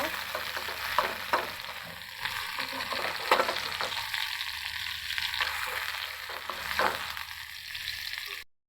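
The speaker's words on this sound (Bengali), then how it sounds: "পেঁয়াজের মরিচ আমি একটু ভেজে নেব" Onions and chillies fry in a pan with a continuous, close sizzle broken by repeated scraping strokes of stirring, and no voices.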